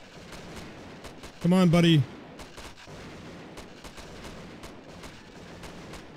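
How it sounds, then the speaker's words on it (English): Gunfire in Grand Theft Auto, a short loud burst of shots lasting about half a second and standing well above a steady bed of game noise, while someone talks briefly nearby. "Who's shooting me?"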